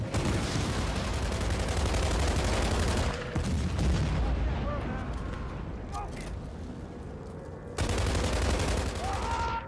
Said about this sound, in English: That has to be a fucking aircraft shooting at me.